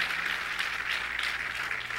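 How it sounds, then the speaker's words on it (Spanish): Church congregation applauding in a worship service, a steady, fairly even wash of clapping throughout, moderately distant with no talk over it. "Reciban un fuerte aplauso de aquí de Casa de Dios, su casa"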